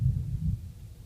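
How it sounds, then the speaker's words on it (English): A brief, soft, low rumble of distant thunder from a heavy thunderstorm, throbbing for about a second with no voices. "it's because we're having a huge thunderstorm here"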